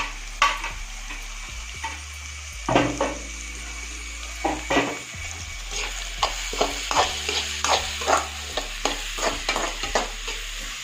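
Chopped capsicum and green chillies sizzle and fry in a pan for egg manchurian, with steady crackling under repeated scraping and stirring of a spatula against the pan, close and continuous, no voices.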